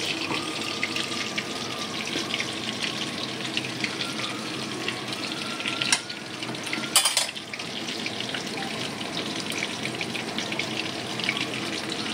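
Water boils in a pot with mustard for a Bengali hilsa curry, a steady close bubbling hiss with a brief clatter partway through and no voices.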